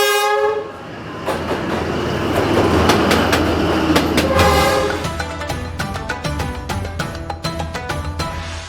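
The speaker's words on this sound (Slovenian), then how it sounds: "Vlak pride čist blizu in umaknajo vse mizice" A train in Vietnam passes very close by café tables on a narrow street: a loud, steady rumble, repeated horn blasts, then a rhythmic clickety-clack of wheels on rails with no talking.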